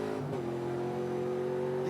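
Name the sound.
Trans Am race car engine revving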